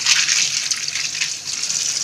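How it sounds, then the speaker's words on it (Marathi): Steady splashing and swishing of water as clams are rinsed, a continuous close wet rush with small sloshing bursts, no voices. "मी आता पुन्हा आहे शिंपल्या पुन्हा एकदा धुवून घेतो, पुन्हा दुसऱ्यांदा मी या पाण्याने"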